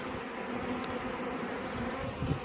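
Dense buzzing of many honey bees around an open hive with queen cells and emerging virgin queens, a continuous close drone with slight swells, no talking.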